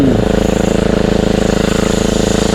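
A small harvester engine throttled down to a low, steady idle, its rapid even pulsing loud and close throughout with no voices over it.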